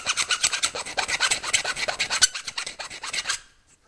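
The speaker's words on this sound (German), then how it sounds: "Den feile ich schnell weg." A hand file rasps back and forth on metal, filing off a drilling burr in quick rhythmic strokes, close up, then stops abruptly near the end.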